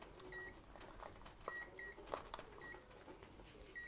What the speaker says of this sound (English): As you can see, it's beeping, but you can see what's written.